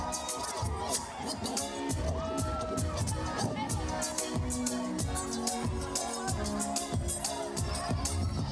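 At a concert, a crowd cheers, shouts and whoops loudly and continuously, a dense roar of voices filling the space.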